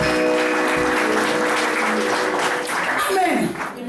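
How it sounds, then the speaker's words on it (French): A church congregation at a French evangelical service applauding, giving a loud, dense wash of clapping that holds steady for several seconds and tapers slightly at the end, with voices mixed in. "Put your hand together for Jesus."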